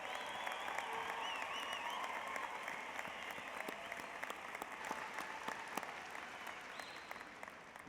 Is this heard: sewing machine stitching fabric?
no